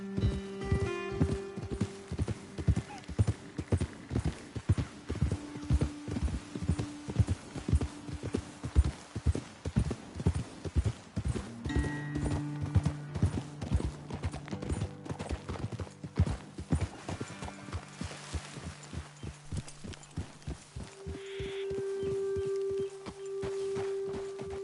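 Horses' hooves clip-clopping steadily on a trail while riders head up toward a ledge, a dense rhythmic run of close, distinct hoofbeats with a whinny or two, slowing and thinning out toward the end.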